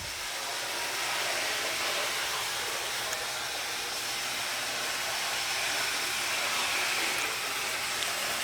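An Athearn model locomotive motor at full power, producing a steady high-pitched whirring hiss that holds constant and fairly loud throughout, with nobody speaking.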